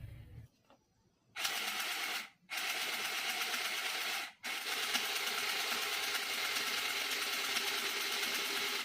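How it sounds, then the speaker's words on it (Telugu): A mini sewing machine runs steadily, stitching through a single fold of a handkerchief: a close, continuous buzzing whir that starts, breaks off twice for a moment, then carries on evenly to the end. "ఇది సింగిల్ మడత మీద వేస్తాను. కుట్టు ఎలా వస్తుందో చూద్దాం."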